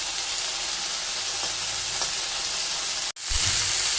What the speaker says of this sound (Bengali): এই দেখো আলু আর বেগুনটা ভাজা হয়ে গেছে